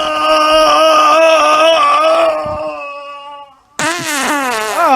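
Fart sounds played back from a recording, a long drawn-out tonal rasp that fades into a brief gap, then a second, louder and shorter burst with wavering pitch.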